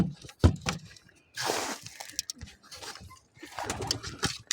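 Pigeons in a loft coo and stir while grain is scattered for them, soft close calls with scattered rustles and small knocks, a voice talking faintly at times.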